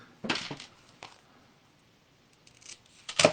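Scissors snip craft paper in a few short cuts, close and crisp, with quiet pauses between a quick double snip at the start and a final cut at the end.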